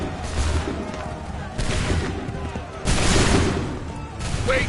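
Redcoat musket volleys in the video game Assassin's Creed III: several loud, dense bursts of massed gunfire, each a ragged crackling roar that decays quickly, with shouted commands between the volleys.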